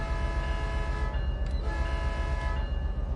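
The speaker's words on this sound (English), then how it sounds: "when you honk the horn" A locomotive horn sounds in Train Sim World 5, a sustained tonal blast that swells and repeats over a steady rumble of the train.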